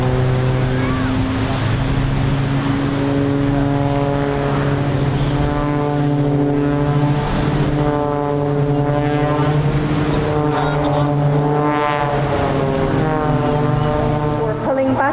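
A display aircraft tumbling and dropping vertically at the Bournemouth Air Festival drones loudly and continuously with a steady propeller-like hum, its pitch rising and falling as it manoeuvres, while a commentator speaks over it.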